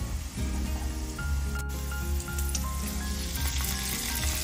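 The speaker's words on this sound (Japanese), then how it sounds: "こんな感じでフライパン傾けてあげるといい感じで揚げるんですよね" Food frying in a tilted pan of oil while tajarin with tomato sauce is being made: a steady, dense sizzle and crackle runs throughout, nearby and fairly loud.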